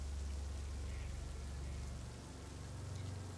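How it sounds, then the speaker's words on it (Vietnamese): Heavy rain pours steadily at night, a dense wash of hiss with a low rumbling undertone that dips briefly partway through, and no voices. "Bầu trời đêm vẫn cứ mưa như trút nước, Khương và Khanh đều đã ướt như chuột lột."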